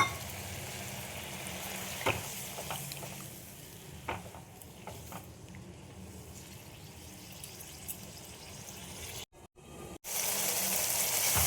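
Dahi potol curry of pointed gourd and whisked yogurt with bowl-rinsing water added, bubbling and sizzling softly in a pan at close range, with faint stirring scrapes and a brief cut in the sound near the end.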